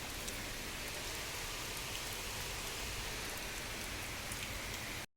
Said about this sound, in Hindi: खतरनाक वाली बारिश लगी है।